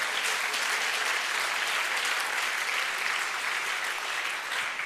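A church congregation claps together during a healing prayer service, a dense, sustained burst of applause filling the room at even loudness throughout.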